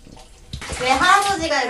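Running water splashes and gushes loudly over a customer's hair as it is rinsed during a shampoo at a barber shop, with people talking over the water.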